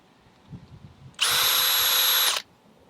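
A power drill bores a 9/16 inch hole during a Honda 2200i generator propane conversion, one steady loud high whine lasting just over a second, with quiet room noise before and after.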